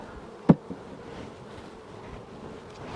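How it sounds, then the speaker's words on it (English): Honeybees hum at a low level around an opened nuc hive, a faint, steady buzz with a brief sharp knock near the start. "Full of bees."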